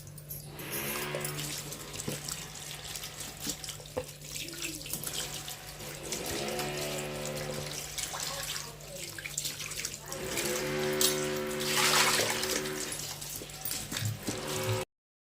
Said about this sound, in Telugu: శుభ్రంగా అయితే టమాటాలు కడిగేస్తాయి ఇప్పుడైతే